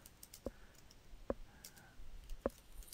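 A few separate, crisp clicks of keys on a computer keyboard, three sharp taps spaced about a second apart in a quiet room with no talking.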